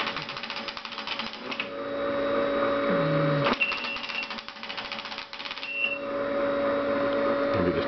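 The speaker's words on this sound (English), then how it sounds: "Yeah, it reprinted the last line I put in." Tracor AN/UGC-129 airborne teletype printing a line, a steady mechanical rattling clatter with a faint electronic tone running under it and a few brief pauses and shifts in the printing rhythm.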